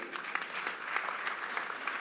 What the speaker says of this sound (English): Cape Media, please give them a round of applause.